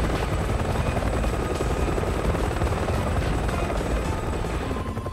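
A helicopter in the video game Resident Evil 6, its rotor and engine throbbing loudly and continuously, close and steady throughout.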